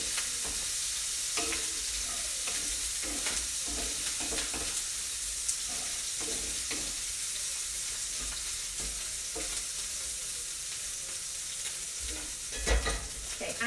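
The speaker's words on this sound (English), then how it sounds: "All right, I'll give this a little stir again." Pork sausage sizzles in an Instant Pot while a utensil stirs it. A steady close frying hiss runs throughout, broken by repeated scraping and clacking strokes.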